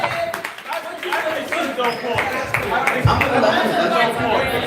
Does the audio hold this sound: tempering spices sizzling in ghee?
no